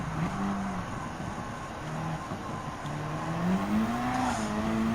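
A race car in Gran Turismo 7 drones steadily through a hairpin as its engine pitch drops under braking and then climbs again, heard as a continuous moderate hum with no voices.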